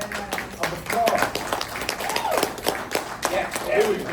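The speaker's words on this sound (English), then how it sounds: "Give them a round of applause." An audience applauds writers at a hip hop stage event, with dense clapping running throughout under a host's loud voice.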